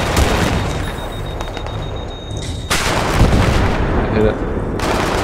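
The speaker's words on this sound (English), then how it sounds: "I just dropped a mine on top of it and it blew up right away." Heavy explosions and gunfire roll through a Battlefield 3 co-op battle as a dropped mine detonates on an enemy vehicle, loud booms layered over sustained shooting with brief voice chatter.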